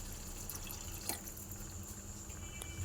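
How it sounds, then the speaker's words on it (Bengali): Water poured into a pot of aloo dum cooking with curd, a faint, steady trickle with light drips over low kitchen background noise. "এবারে আমি এর মধ্যে পরিমাণ মতো জল দিয়ে"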